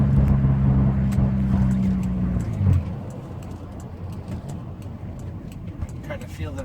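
Diesel engine of a 2005 Volkswagen Jetta TDI wagon driving, a steady low clattery hum with a strong droning tone for the first few seconds, then a softer rumbling cabin noise.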